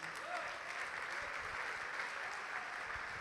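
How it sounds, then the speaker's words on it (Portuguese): A church congregation standing during a sermon applauds together, a steady, even wash of many hands clapping, fairly distant and soft, with no clear speech over it. "vamos aplaudir o nome de Jesus."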